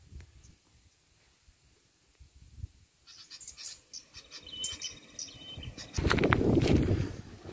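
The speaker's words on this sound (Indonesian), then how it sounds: "suara burung." Recorded bird calls play from an MP3 speaker as a lure at an old tin mine pond site, faint chirps and tweets over insect buzzing, then a louder rustling burst near the end; no talk.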